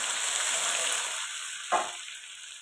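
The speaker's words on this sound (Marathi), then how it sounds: "जिरं टाकून घेऊ. जिरं पण मस्त असं फुललेले." Cumin seeds sizzle in hot oil as the tempering for a village-style spicy brinjal curry: a steady, close hiss that briefly flares with a sharper crackle near the end, then settles.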